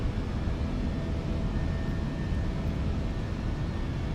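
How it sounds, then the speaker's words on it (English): An Airbus A321 takes off in a flight simulator in gusty conditions, a dense, steady engine roar that stays constant and loud throughout. "And that was an interesting takeoff run."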